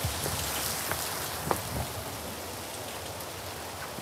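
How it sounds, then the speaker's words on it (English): Heavy rain pours steadily onto surfaces around a Lamborghini Urus, a dense continuous hiss with scattered louder drop impacts, close and loud throughout with no talking. "it's raining hard."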